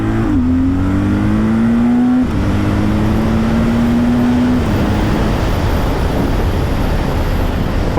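BMW R12 G/S motorcycle on a first ride, its engine revving up loudly through two rising pulls with a gear change between, then settling into a steady roar with wind noise, close and alone.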